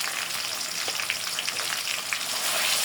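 Onion paste, ginger-garlic paste and spices fry in hot oil for a mutton curry, a dense steady sizzle with faint crackles and light stirring scrapes, close and fairly loud.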